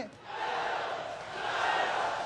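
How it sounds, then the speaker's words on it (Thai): A packed crowd at a Muay Thai stadium fight roars and cheers in a steady, swelling wash of voices that builds louder toward the end, with a commentator talking over it. "เสียงเชียร์เริ่มมาครับตอนนี้"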